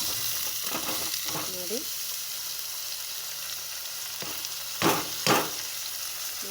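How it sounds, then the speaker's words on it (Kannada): Tomatoes hit fried onions in a hot pan for tomato rice, sizzling steadily with a soft frying hiss, while a couple of sharp utensil scrapes and clinks from stirring break through near the end. "ಇವಾಗ ನಾನು ನೂಕೋಲು ಟೊಮೆಟೊ ಹಾಕ್ತಾಯಿದ್ದೀನಿ."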